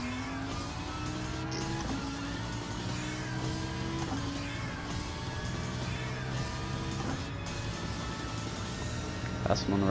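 Lamborghini Huracan race cars in a GT Sport race, engines droning and revving steadily throughout with shifting pitch as cars jostle in close traffic, a brief tire squeal near the end; no talking.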